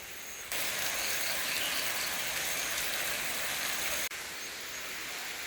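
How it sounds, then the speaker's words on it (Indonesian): Drizzling rain patters steadily on a farm hut in the countryside near rice paddies, a continuous hiss that rises sharply after a quiet start and drops back near the end, with no one speaking. "kalau hujan gerimis seperti ini ya"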